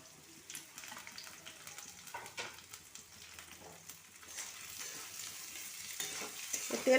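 Radish and carrot pieces go into moderately hot oil for pickle, giving a soft, quiet sizzle with scattered clicks of stirring that builds louder toward the end, with no talking.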